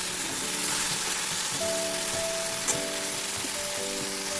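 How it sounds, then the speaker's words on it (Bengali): Okra frying in a kadai gives a steady close sizzle and crackle, with a faint tonal hum running underneath and no voices. "তারপর আমি কড়াইতে ভেন্ডিটা ভেজে নিচ্ছি।"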